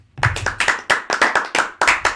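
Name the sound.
hands clapping once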